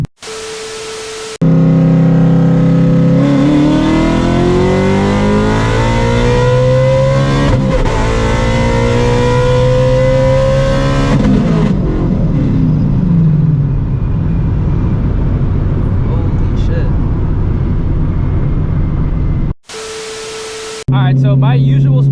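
A 950-horsepower ESS-supercharged Shelby GT350 accelerates hard on the road, its engine climbing loudly through rising revs over several seconds, then a gearchange and a sustained roaring, rumbling pull with heavy wind noise.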